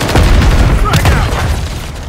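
A frag grenade goes off in Call of Duty: Modern Warfare III, a loud, close boom with a rolling, crackling tail amid combat noise and a voice in the background.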